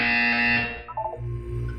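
A loud electronic alarm-like tone from the Portal 2 video game sustains for about three quarters of a second before giving way to a quieter, lower buzzing hum.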